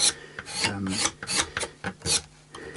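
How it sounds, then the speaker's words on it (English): A blade shaves and shapes the wooden headstock of an upcycled Strat-style guitar neck, giving repeated close rasping scrapes in uneven strokes with short pauses between them. "I'm going to carry on shaving that and shaping it"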